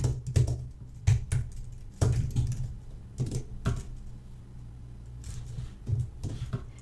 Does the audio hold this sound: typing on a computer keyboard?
yes